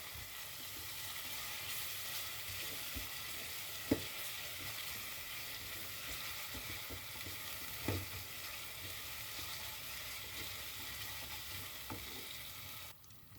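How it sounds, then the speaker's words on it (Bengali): Ginger-garlic paste frying in a pan for a potato and shrimp curry gives a steady, fairly quiet sizzle throughout, with a few soft stirring knocks scattered through it. "এখন আদা রসুন বাটাটা আমি কষায় নেব"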